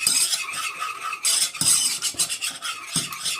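A spoon scrapes and stirs flour into melted butter in a saucepan to make a roux, giving close, rhythmic rasping strokes with brief pauses and a faint sizzle beneath.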